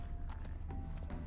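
Horse hooves in The Witcher 3 video game, a brief run of close, rhythmic clip-clop steps at a steady pace, with no voices.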